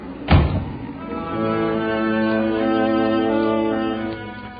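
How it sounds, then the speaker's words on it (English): A ship's door bangs once in a radio drama, a sharp close thud at the start, followed by a sustained low droning tone that swells and fades over several seconds. "I can't stand to hear a door banging"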